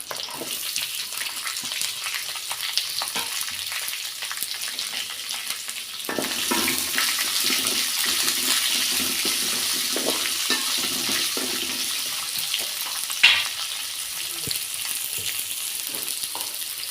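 Two large finely chopped onions with salt sautéing in oil, a continuous close hiss with scattered spatters, growing fuller after a few seconds, with one sharp clink near the end.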